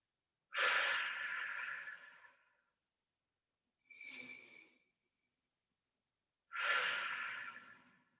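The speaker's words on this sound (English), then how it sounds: "And have a couple of deep breaths here. Nice big breath in. Fill the body up with air. Breathing out, just empty out all of that air." Deep breathing during a yoga exercise: a long, airy inhale, a shorter soft exhale after a pause, then another long breath, all close and intimate with silence between, no voices.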